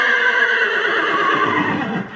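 A horse neighs loudly and close by, a sustained whinny lasting a couple of seconds and ending with a short drop, with no talk over it.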